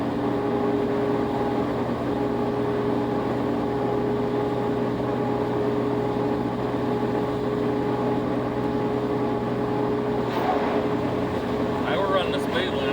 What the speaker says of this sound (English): Hear the blower blowing for the fan